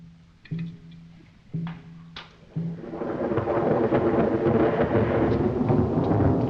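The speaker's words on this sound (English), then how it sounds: "The storm is rising. The air is heavy with electricity. It's going to be a terrific storm." A thunderstorm scene in the 1935 film Bride of Frankenstein opens with a few short tonal bursts, then rolling thunder and heavy rain swell into a loud, continuous roar.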